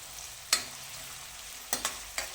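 Finely chopped onions fry gently in a pan over low heat, a quiet steady sizzle broken by a few sharp clinks of a spoon stirring against the pan.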